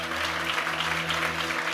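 An auditorium audience claps in continuous dense applause, loud and steady, with no speech over it.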